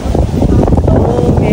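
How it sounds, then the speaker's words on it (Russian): Strong wind buffets the microphone outdoors in Phuket, a loud, continuous low rumble with gusty flutter that fills the whole clip. "О, ветер. Сегодня достаточно ветрено, кстати."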